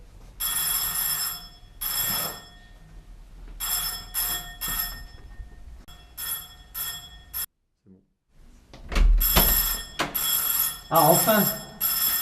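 A phone ringtone plays in loud repeated bursts of a bright melodic ring, cutting off briefly before resuming, with people talking between the rings.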